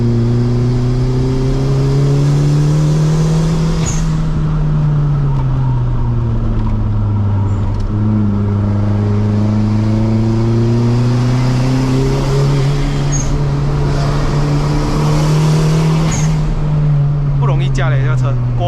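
Turbocharged 180 whp Perodua Kelisa 1.3L climbing at high rpm on a Genting hill run in Malaysia: a loud, close engine drone rising and falling in pitch through the revs, with a brief flutter near the end and someone talking over it.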